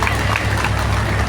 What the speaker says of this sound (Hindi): चलो अच्छा, भैया के लिए ताली बजा दो, हमारी माता का ताली बजा दे